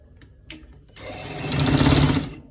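A sewing machine stitches fabric for a V-neck inner pocket, a few brief clicks and taps first, then a fast, close, steady whirring run that swells and cuts off.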